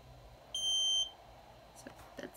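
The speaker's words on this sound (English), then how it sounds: "So that's the beep." A nail lamp's timer gives one clear electronic beep about half a second long at a hairdresser's, followed by a few soft handling clicks in a quiet room.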